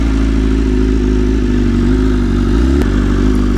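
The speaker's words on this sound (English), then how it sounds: "For an inline four" A loud, steady inline-four motorcycle exhaust drone close by, a deep rumbling idle with a slight blip in revs near the end.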